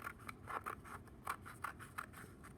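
Scissors snip along straight lines in a paper strip for a Cat in the Hat weaving craft: a quick run of small, crisp, quiet cuts in an irregular rhythm, close up, with no voices.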